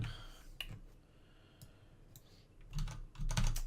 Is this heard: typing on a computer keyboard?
yes